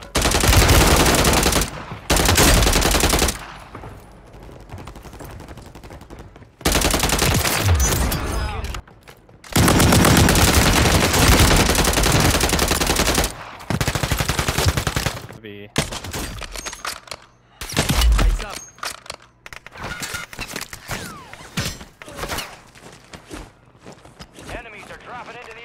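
Bursts of rapid automatic gunfire from a video game battle royale match rattle in loud clusters separated by short pauses, with some lighter single shots and footsteps, while players talk over the action.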